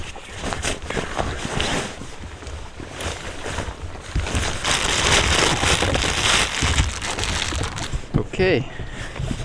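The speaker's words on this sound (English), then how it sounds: "There is some rain coming up ahead." Rain patters on water and a kayak during a paddling trip through Scandinavia, a steady hiss of drops close by, with a voice speaking briefly over it.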